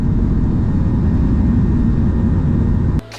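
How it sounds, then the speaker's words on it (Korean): An airplane taking off or landing gives a loud, continuous low roar that stays steady for about three seconds and then drops away suddenly. "비행기가 이착륙할 때 나는 소리라고 하거든요"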